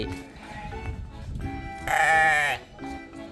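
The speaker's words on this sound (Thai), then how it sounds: "พี่แกะมากินหญ้า" A sheep at a petting farm in Cha-am, Thailand, lets out one loud, drawn-out bleat over quieter rustling and faint background noise.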